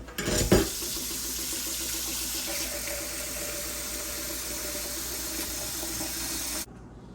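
Tap water runs steadily into a pressure cooker pot, filling it up to 8 cups for rehydrating beans, with a brief clatter at the start and a sudden stop near the end.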